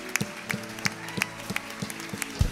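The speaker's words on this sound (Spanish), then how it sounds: "Demos un aplauso al Señor esta mañana." A church congregation claps in a steady, evenly spaced rhythm during a Spanish-language worship service, each clap crisp and moderately loud, with faint background tones underneath.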